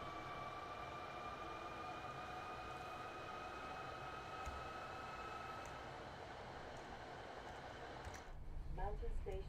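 A train running in Train Sim World 6, a steady low rumble and hiss with faint tonal whine, ending in a louder clattering burst; a voice talks over part of it.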